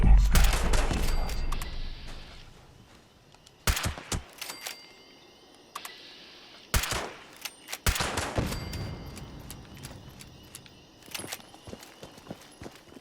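Weapon gunfire in the video game Fallout 76, with bursts of shots and sharp bangs spread across the stretch, some close and loud, others fainter, over a busy game background.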